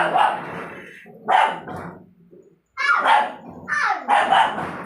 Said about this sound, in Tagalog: hindi na naman ako nakaligtas sa ingay ng aso